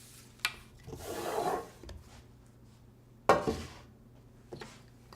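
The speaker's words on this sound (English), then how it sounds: "dust off the excess flour with a brush" A brush sweeping excess flour off chilled croissant dough, two soft rasping strokes, each about a second long, with light clinks in between, close and quiet.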